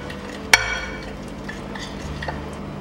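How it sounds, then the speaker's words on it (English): An eggplant rub with ghee and apple cider vinegar is stirred in a bowl. One sharp metallic clink of the utensil against the bowl is followed by quiet, soft stirring and light scraping. "I'm going to give this a stir."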